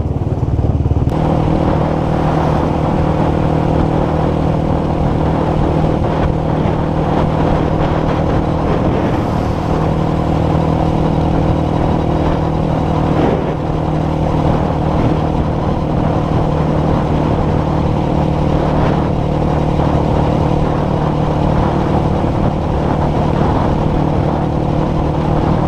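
A Honda Twister motorcycle with a tuned engine idles and revs on the street, producing a loud, continuous engine drone with a steady low hum that holds for the whole stretch and no talking over it.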